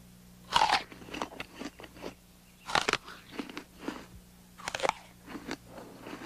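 Crisp, crunchy bites into an apple in a cartoon, three loud separate crunches spaced a couple of seconds apart with softer chewing crackles between them, no talking.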